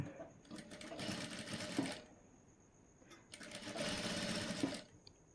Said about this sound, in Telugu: ఇక్కడ థ్రెడ్ పైపింగ్ స్టిచ్ చేసుకున్నారు కదా